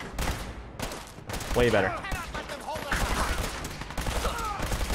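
Gunfire in Fallout 4, a burst of shots in the game's combat, ringing out fairly loud in a mix with game sounds while someone talks over it.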